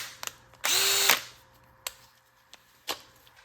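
A power drill whirs briefly for about half a second, loud and close, with a rising motor pitch, surrounded by a few sharp clicks and taps.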